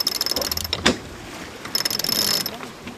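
A sail-trimming winch ratchet clicks in quick mechanical bursts, with a brief rattle in between, close by on a sailing boat and no clear talking.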